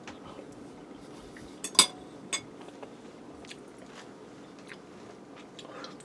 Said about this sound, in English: I'm going to try to get a little bit of tomato in this bite